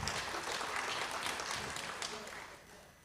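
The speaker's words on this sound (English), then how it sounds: "Let's give her another round of applause" Conference audience at a service learning event in Africa clapping, a dense wash of applause that fades toward the end, with faint voices mixed in.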